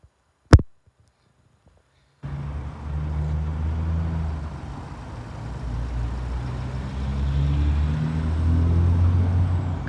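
A parked vehicle's engine runs at a steady low idle, a continuous rumble that holds from about two seconds on after a short sharp knock near the start, with no talking.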